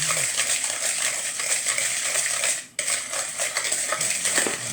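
Orange and sugar being mixed in a bowl, a close, continuous scraping and clinking of a utensil against the bowl with a brief pause midway before the stirring resumes.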